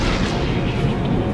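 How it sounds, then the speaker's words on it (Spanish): A meteor exploding in the Fortnite video game, a loud, dense, sustained roaring blast of broadband rumble that fills the whole moment without a break. "Ya verás tú cómo el meteorito va a explotar."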